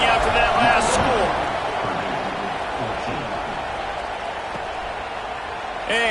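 Stadium crowd buzzing in a college football video game, Oregon versus Purdue, a dense continuous roar of many voices that stays loud and steady throughout, with a commentator talking over it.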